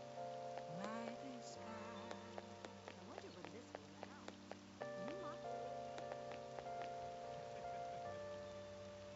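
Steady rain falls in the video game Persona 5 Royal, a constant hiss under layered game music and sound effects, with no one speaking.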